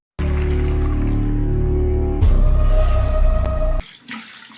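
Water gushes from a tap while snake grass leaves are washed for herbal medicine. The loud, close flow changes pitch partway through and then cuts off sharply near the end.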